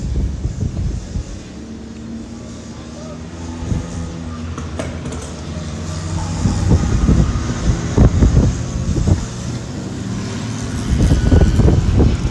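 BMW E36 drift cars run on a track at a drifting practice session, engines rising and falling in surging bursts at mid distance under heavy wind buffeting on the microphone.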